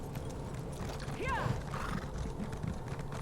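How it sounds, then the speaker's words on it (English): A horse's hooves clip-clop softly in the Elder Scrolls Online game, a faint steady plodding under background game ambience with a brief neigh-like sweep. "Okay, so horse."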